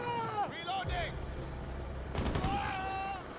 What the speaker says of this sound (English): Finka shot you and then killed me.